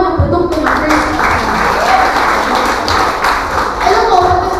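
An audience at a First Vita Plus product gathering applauds steadily, a dense wash of clapping that starts after a brief pause and holds through, with voices mixed in underneath.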